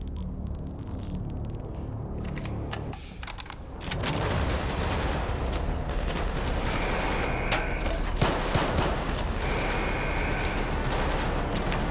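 Explosions and rumbling gunfire in S.T.A.L.K.E.R., with a sharp flashbang-like burst near the middle that leaves a steady bright ringing tone, amid continuous loud combat noise.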